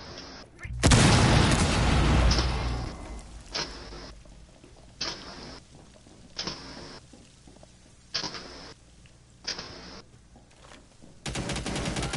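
Bursts of video game gunfire, a heavy opening volley followed by short repeated automatic bursts at regular intervals, loud and close, with players talking around it.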